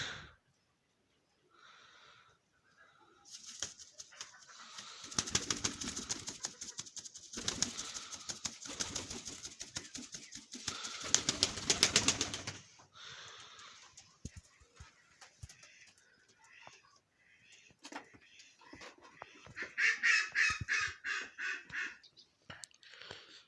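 Soft cooing of yellow-marbled Baku pigeons over a stretch of rustling and bursts of flapping wings, with quiet gaps and scattered clicks; moderately close and fairly faint.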